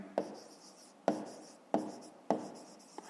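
Pen writing by hand on paper during a fifth-grade maths exercise, four firm scratchy strokes in steady succession, close and quiet with no talk.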